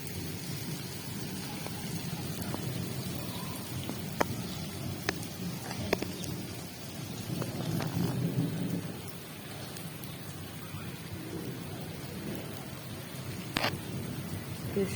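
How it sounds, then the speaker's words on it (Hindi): Steady rain falls and grows heavier, with low rumbles of thunder rolling underneath and a few sharp drips or cracks standing out, heard from close by and without any talking. "फिर शुरू होगी बारिश, पहले स्लो हो गई थी, अब फिर शुरू हो गई, तेज हो गई"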